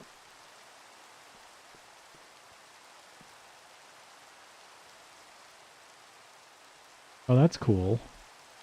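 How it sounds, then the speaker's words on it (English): Steady soft rain hiss throughout in the video game GregTech: New Horizons, with a brief burst of a man's speech near the end. "Of course it starts raining."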